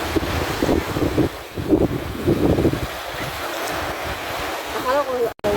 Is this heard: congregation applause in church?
no